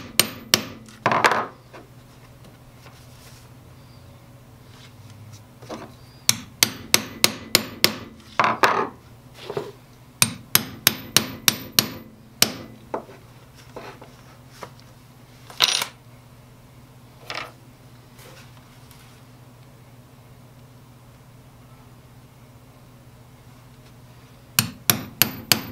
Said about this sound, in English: I'll take these stitching chisels and make a series of evenly spaced holes in the groove that I just made.